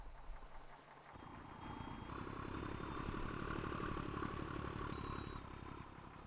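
A farm vehicle's engine idles steadily in Farming Simulator 22, a continuous mid-pitched rumble with faint clatter and no talk.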